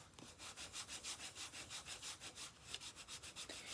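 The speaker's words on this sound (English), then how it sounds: "Again, the burnishing." A bone folder burnishes paper during box making, making soft, rhythmic rubbing strokes at a quick, even pace. The strokes are close and faint, with no talk.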